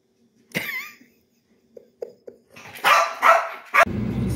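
A dog at home gives a whiny, yelping bark, followed by a few soft, scattered noises and then louder rustling bursts up close.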